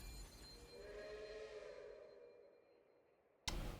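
A train pulls away from a station in the video game Last Train Home, a steady rolling rumble with tonal whistle-like lines that slowly fades, then an abrupt loud burst of a different sound at the end.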